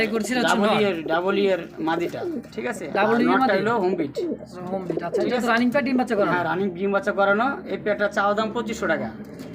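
Pigeons at a Bangladeshi pigeon sale, including Danish and racer birds, coo softly beneath a man's continuous close-up talking, which covers nearly the whole stretch.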